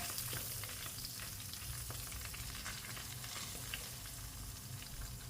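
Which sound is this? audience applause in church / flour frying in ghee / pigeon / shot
flour frying in ghee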